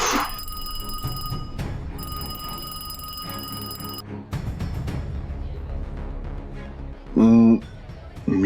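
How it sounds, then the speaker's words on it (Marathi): An alarm clock rings in repeated bursts of bright, electronic-sounding tones with brief gaps, and a loud voice cuts in near the end. "मी 11चा अलार्म लावला होता."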